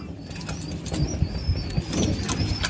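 Punjabi pigeons coo close by, low throaty calls mixed with wing flutters and shuffling, while a thin high tone runs faintly behind them.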